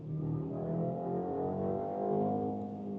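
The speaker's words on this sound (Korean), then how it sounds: "부스터 하면은 엔진 소리가 좀 더 커지는 것 같아요." A BMW X3 20 mild-hybrid engine revs under boost, a smooth, strong, steady drone with rising harmonics that stays loud and close throughout, with no voices over it.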